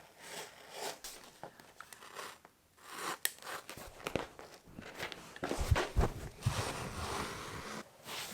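Bathroom flooring is cut by hand near a plasterboard wall, with irregular crunchy snips and scraping strokes that grow busier and louder toward the end, close and quiet, no talking.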